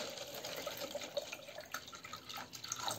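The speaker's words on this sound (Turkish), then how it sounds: "su dolduruyorum." Water is poured into a small container holding crushed garlic, a soft steady trickle with light splashing and dripping, faint and close, with no talk.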